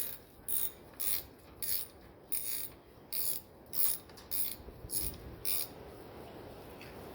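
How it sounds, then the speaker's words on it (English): A wrench ratchets while tightening a gas petcock on a TTR125 motorcycle, giving about a dozen short, close clicking bursts in an uneven rhythm, with quiet pauses between them. "Start just wrenching around there."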